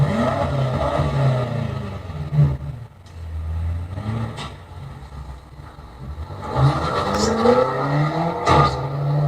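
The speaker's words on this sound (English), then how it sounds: "BMW M8 competition." A BMW M8 Competition sports car engine rumbles and revs up and down, with a deep, loud tone rising in bursts over a steady idle growl.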